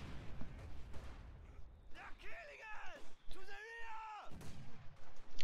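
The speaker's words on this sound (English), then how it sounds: "I'll just finish with I'll finish with the mortar" Company of Heroes 2 battle sounds: German mortar fire comes as booming shots and bursts, mixed with other game effects, while someone talks over them.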